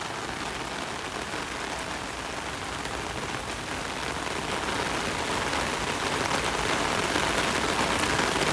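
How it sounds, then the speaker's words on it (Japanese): Steady heavy rain pours outdoors in Kabukicho, a dense continuous hiss of drops on surfaces that holds loud and unbroken throughout. "ツナ雨宿りしといて"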